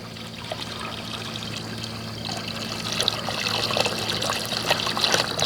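Water pours steadily into a pot, a continuous splashing trickle that grows slightly louder toward the end, with a low hum underneath and no talking.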